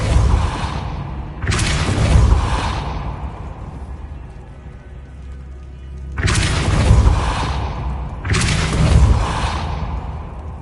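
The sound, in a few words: Depulso spell impact in Hogwarts Legacy video game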